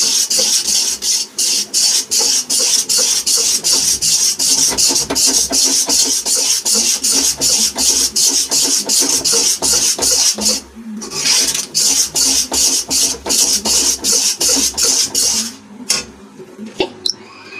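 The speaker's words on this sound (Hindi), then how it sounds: "हमें इसी प्रकार से इसे भूनते जाना है।" Mysore pak mixture being stirred and roasted in a pan, heard as a continuous rapid scraping and rasping of a spoon against the pan, close and loud, with a brief pause partway through.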